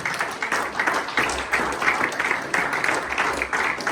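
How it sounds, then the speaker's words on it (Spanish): Church congregation applauding in praise during a sermon, a dense, sustained wash of many hands clapping at steady loudness throughout, no voices rising above it. "Denle un aplauso a la gloria de Dios."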